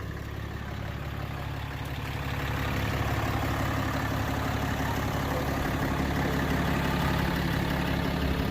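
A RAM 3500 pickup truck's engine idles after a remote start, a steady, deep, low rumble that holds constant and close with a slight swell in loudness partway through, with no talking.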